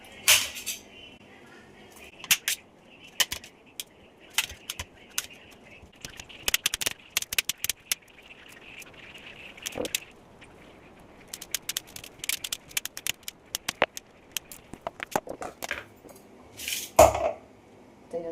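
A knife cuts peeled raw green mango on a board in sharp, irregular taps and clicks, some clustered quickly, others spaced apart, fairly close and clear.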